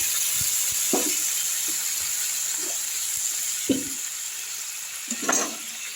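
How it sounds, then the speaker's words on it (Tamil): Water poured into a hot pan for Bombay chutney makes a steady sizzling hiss, broken by a few soft stirring scrapes and splashes, with a brief louder burst of bubbling near the end. "அதுலேயே வந்து ஒரு டம்ளர் அரை டம்ளர் தண்ணி ஊற்றுறேன்"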